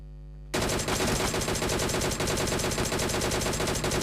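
Automatic rifle fire in the mobile battle royale game PUBG Mobile erupts after a brief quiet moment, a rapid continuous burst of shots that stays loud and close for several seconds.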